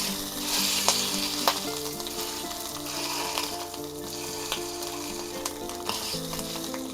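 Hot dogs fry on a hot griddle with a constant close sizzle and crackle, plus a few soft scraping taps as they are pushed down.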